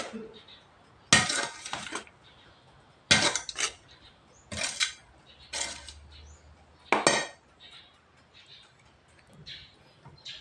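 A spoon clinks and scrapes in a bowl while a kilo of macaroni salad is mixed with two kinds of cheese, giving several sharp, separate bursts of clatter with quiet gaps between them.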